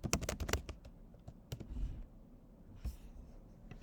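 Fast close-up typing on a computer keyboard, a quick burst of crisp key clicks, then scattered slower taps with a short pause between them.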